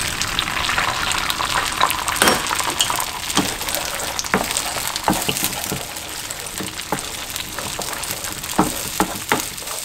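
Eggs hitting a hot oiled pan for stir-fried tomato and egg, a continuous bright sizzle and crackle broken by sharp pops and spatters, close up with no talk.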